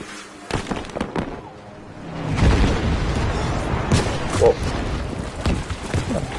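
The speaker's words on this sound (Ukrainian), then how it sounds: "Так, артобстріл." Artillery barrage on Wake Island in Battlefield 5, a rapid string of sharp explosions and crackling booms at varying distances, continuous rumbling chaos through the middle, with no talking.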